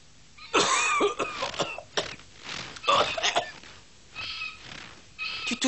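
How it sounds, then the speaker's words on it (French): Someone coughs repeatedly, close by, in several harsh, throaty bursts separated by short pauses, with some sounding like throat clearing. "Tu tousses beaucoup, je trouve."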